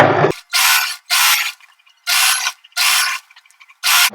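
A sewing machine stitches the seam of a boatneck dress in five or six close, even bursts of mechanical whirring with short pauses between, alone and without talk.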